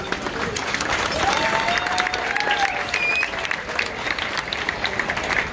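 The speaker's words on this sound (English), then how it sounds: "the fantastic Reggie Rodriguez, give him a round of applause, come on." Cruise ship dining-room audience on a P&O Ventura Canaries cruise applauding a restaurant manager, steady full clapping lasting several seconds with a few whoops over it.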